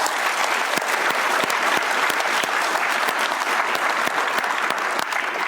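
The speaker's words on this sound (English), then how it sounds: "If we give them a round of applause." Warm, dense applause for a kitchen team of women, many hands clapping steadily and evenly throughout at fairly close range, with no talk over it.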